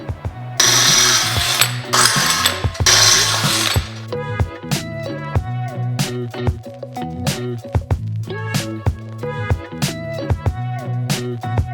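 Metal clinks and ratcheting clicks come from screwing down a part on a DIY plasma cutting table: a loud rushing burst at first, then a long run of sharp, irregular mechanical ticks and taps close by.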